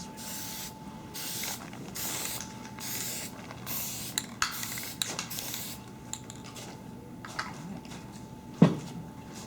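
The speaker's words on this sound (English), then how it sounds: "That's all the spray paint we're going to do here" Aerosol spray paint hisses in repeated short bursts onto haunted-house set props, each blast loud and close, separated by brief pauses, with small clicks and knocks of handling between sprays.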